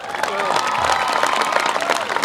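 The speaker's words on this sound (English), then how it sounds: "Now, let's applaud." Audience at a commencement ceremony applauds in a steady, dense wash of clapping that fills the hall, with voices mixed in.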